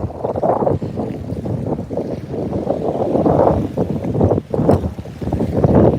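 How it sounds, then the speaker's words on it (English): Strong gusting wind buffeting the microphone outdoors on a fishing boat, a loud continuous rumbling roar that swells and dips throughout. "Today would be an amazing day if the wind was like 10 degrees calmer."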